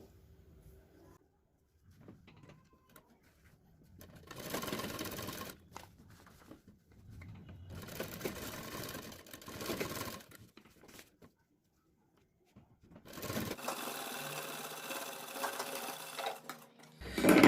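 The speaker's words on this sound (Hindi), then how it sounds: "यहाँ से इसमें हम सिलाई लगाना शुरू करेंगे और इसको ये जो हमारा खुला हिस्सा है इसको हम बंद कर देंगे सिलाई लगाकर।" A sewing machine stitches a collar onto a kurti in three bursts of fast, steady whirring, separated by quiet pauses with faint handling sounds.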